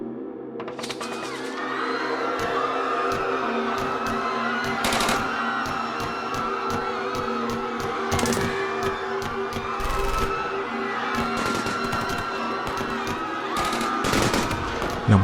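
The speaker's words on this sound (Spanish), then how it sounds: "En segundos, comenzaron a escucharse los primeros disparos." Rapid bursts of automatic gunfire and scattered single shots crackle continuously, loud and echoing, with no one speaking, during the 1968 Tlatelolco massacre in a crowded plaza in Mexico City.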